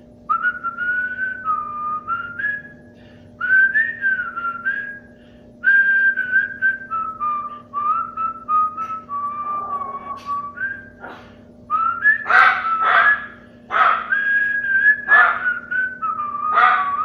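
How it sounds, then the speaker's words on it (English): A person whistles the theme tune of Percy the small engine, a clear melodic line in short phrases with pauses between them, loud and close. A dog barks intermittently underneath in the second half. "I'm gonna whistle out this character's theme."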